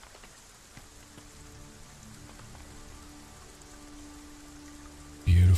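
Rain falls in the video game Dragon's Dogma 2, a soft, steady patter on surfaces with faint tonal game ambience underneath, ending in a sudden loud burst at the very end.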